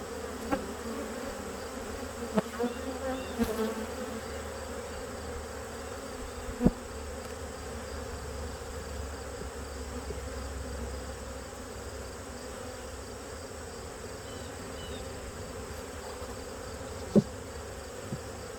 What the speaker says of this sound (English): There's a lot of young bees on this frame, so I'm just gonna give this frame a quick shake